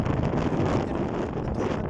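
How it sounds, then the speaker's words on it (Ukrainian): Strong wind buffets a camera microphone at an outdoor market in Spain, producing a loud, continuous rumbling roar with gusty fluctuations throughout. "Так, сьогодні трохи вітряно, тож, вибачте, буде трохи вітряно"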